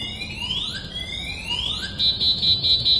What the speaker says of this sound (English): when the alarm is on, you cannot switch on the scooter